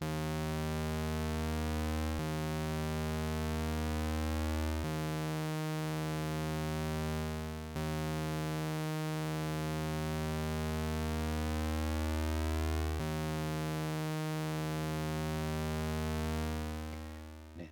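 Steady bass synthesizer oscillator tones with a buzzy, harmonic-rich timbre, second harmonic and upward only, shifting pitch every few seconds as new notes are held, playing alone.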